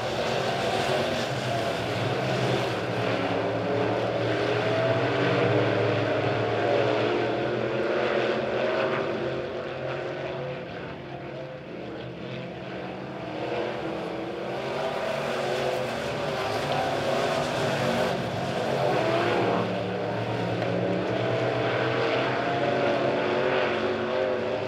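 Midwest modified race cars pound around the Springfield track under green flag, a continuous loud engine roar that swells and fades as the pack laps, without a break.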